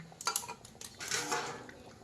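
A metal lid set onto a cooking pot of fish curry on the stove, giving a couple of faint clinks and a soft rattle as it settles, fairly quiet and close.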